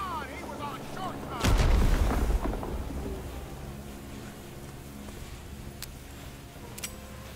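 An artillery strike in Rising Storm 2 Vietnam lands as one heavy, rumbling boom that rolls off slowly, followed by fainter distant cracks of gunfire over ambient battlefield noise.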